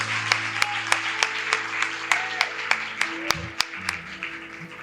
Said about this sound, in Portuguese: Vamos aplaudir ao Senhor por eles.